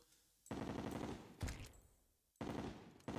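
Bursts of rapid pistol gunfire in Terraria, loud and close, in three separate volleys with brief gaps between them.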